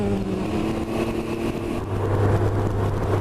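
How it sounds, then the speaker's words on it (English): A Can-Am Ryker 900 ACE on the road decelerating, a steady engine drone and faint whine, with the engine note shifting lower partway through and holding at a moderate, close level. "I like that engine whistling when you decelerate."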